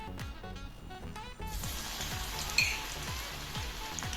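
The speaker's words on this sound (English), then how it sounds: "deep fry the florets" Cauliflower florets deep-fry in hot oil, a soft, steady bubbling hiss that swells after the first second and runs on evenly, fairly quiet, under a repeating low background tone, with no voices.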